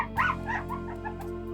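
A litter of young puppies nursed by a cat whimpers nearby, letting out several short, high whines and yips in uneven bursts over a faint background hum.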